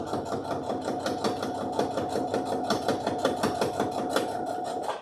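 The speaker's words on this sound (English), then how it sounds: "I'm just going to do a quick little top stitch." A sewing machine top stitches a fabric coin and key pouch, its needle rattling in a fast, even rhythm close by and steady until it stops at the end.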